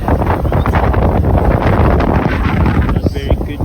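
Wind blows outdoors around an open beehive in summer in South Africa, roaring loudly and buffeting the microphone in continuous gusts while a person talks.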